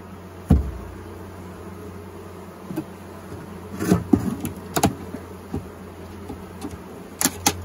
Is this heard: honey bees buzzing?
yes